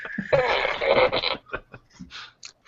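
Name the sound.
toy fart gun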